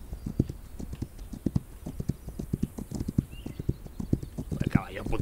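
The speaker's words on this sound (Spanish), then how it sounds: "mira el caballo. Mira el caballo, mira el caballo." Horse hooves clip-clop in a steady, fairly close rhythm with a brief whinny near the end, from the Wild West video game This Land Is My Land, with someone talking over the hoofbeats.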